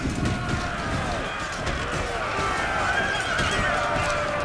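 Horses neigh and gallop in a Napoleonic-era battle in Empire: Total War, with loud whinnies over a constant rumble of hooves and clashing combat, busy and continuous across the scene.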